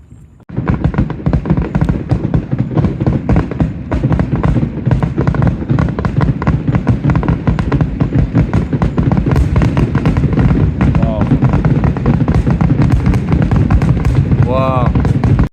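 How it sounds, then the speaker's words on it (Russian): Dense, rapid barrage of Independence Day firework explosions crackling and booming continuously outdoors, loud and close, with a few whistling rockets near the end. "Салюты везде."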